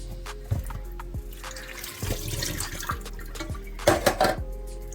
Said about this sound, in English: I just strain the water off and I'm gonna put it in the pot